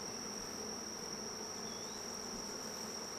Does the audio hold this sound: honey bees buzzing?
yes